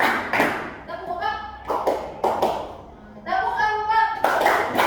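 A classroom of pupils claps hands in counted bursts during a concentration test, loud sharp claps grouped in sets, separated by a teacher's voice counting aloud.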